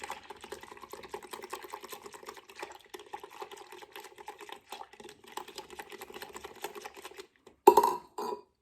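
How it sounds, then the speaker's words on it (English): Spoon stirring condensed milk into homemade coffee creamer, a fast steady rhythm of clinks and scrapes for about seven seconds, then a short pause and a final louder burst of clattering. "I'm going to go ahead and mix this, make sure my condensed milk"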